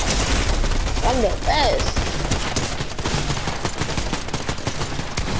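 Sniper gunfire in a war video game, dense bursts of shots mixed with loud game noise and a tonal swoosh, while a player talks excitedly over it.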